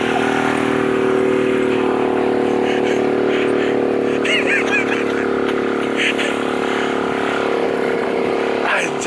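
A motorcycle engine labours steadily uphill, droning loud and strained throughout, with wind and road noise while voices talk over it.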